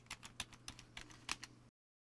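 Someone typing a password on a computer keyboard: about a dozen quick, light key clicks in an uneven rhythm, quiet and close, ending abruptly in silence.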